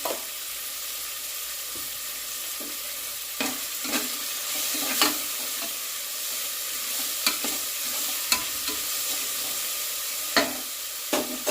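Onions softening with a little salt in a pan, prepared for mushroom biryani, give a steady soft sizzle with occasional scraping stirs and clicks of a spoon against the pan, close and moderately quiet, with no talk.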